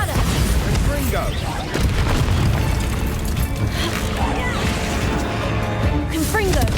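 Bombarda and Confringo spell blasts in Hogwarts Legacy boom and crash loudly over a constant roar of game sound. Several heavy impacts land over a few seconds, with shouting voices mixed in.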